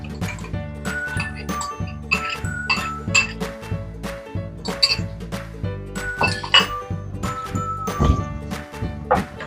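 A spoon stirs pachadi made with curd, dried red chillies and curry leaves in a pot, giving a quick run of bright metallic clinks and scrapes against the vessel, fairly close.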